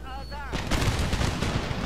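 An artillery volley in the video game Empire Total War goes off with a sudden roaring boom of overlapping cannon shots, rumbling on loudly after a man's short remark.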